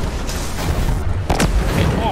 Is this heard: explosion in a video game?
yes